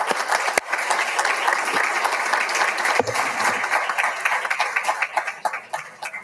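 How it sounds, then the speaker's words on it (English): Applause at a LEISD school board meeting honoring the Human Resources Department: dense, steady clapping from a roomful of people lasting about six seconds, with a couple of sharper claps standing out before it tapers off. "So how about a nice round of applause for our Human Resources Department?"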